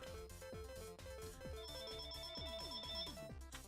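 A phone ringtone chimes with a quick melodic pattern of bright, ringing notes that repeat several times, fairly faint behind a streamed gaming session with no talk over it.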